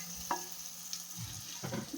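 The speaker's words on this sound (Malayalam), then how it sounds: "അതിലോട്ട് നമുക്ക് മീൻ വറുത്തത് ഇട്ട് വെക്കാം" Pieces of fried fish go into masala cooking in oil, giving a faint, soft sizzle with a couple of quiet stirring scrapes and clinks, close by and without talk.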